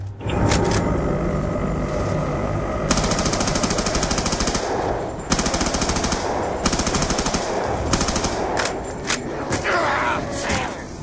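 Weapon fire rings out in Black Ops 2 Zombies on the Origins map, including a ray gun, with long bursts of rapid, evenly spaced shots broken by short pauses and scattered single blasts, loud and close.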